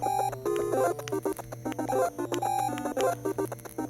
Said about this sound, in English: And I'm also not really paying attention to the Jason alarm.